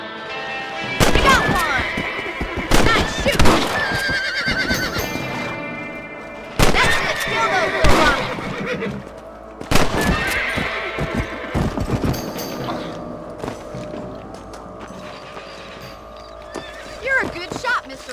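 Horses in the Red Dead Redemption video game let out several loud whinnies and neighs over hoofbeats, mixed with sharp rifle gunshots and bursts of in-game voices.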